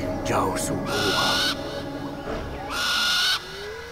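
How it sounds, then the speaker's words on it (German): Two long, loud owl hoots from the video game Far Cry Primal, each lasting under a second and separated by a short pause, with faint voices in the background. "Eine Eule."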